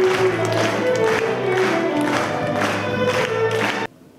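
An audience at a state ceremony in Rivne gives sustained applause with some cheering, a steady, loud wash of clapping and crowd noise that stops abruptly near the end.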